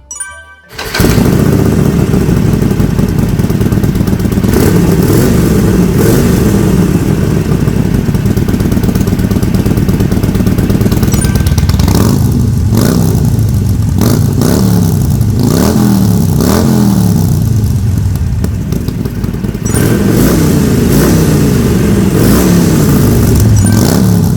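A Harley-Davidson Forty-Eight 1200cc motorcycle with a variable exhaust starts, idles with a deep loud exhaust rumble, then revs up and down repeatedly, close and sustained.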